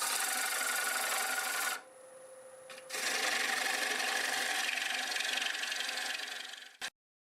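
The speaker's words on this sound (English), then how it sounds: "I'm going to sharpen back up on the 5/8." A 5/8 woodturning gouge is sharpened on a grinder, a steady loud rasping grind that pauses briefly and drops to a hum, then resumes before stopping abruptly.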